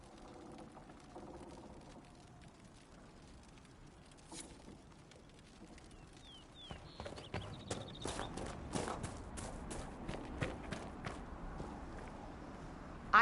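Quiet ambience gives way to horse hooves clip-clopping in a steady walking rhythm, growing louder and closer toward the end, in the video game Dragon Age: Inquisition.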